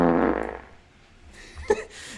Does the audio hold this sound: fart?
yes